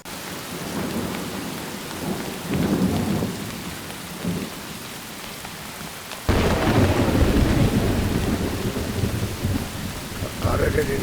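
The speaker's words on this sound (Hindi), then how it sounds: "कितनी तेज बारिश है यार।" Heavy rain pours steadily with rumbling thunder, the downpour swelling suddenly louder partway through and continuing as a dense, close wash of sound.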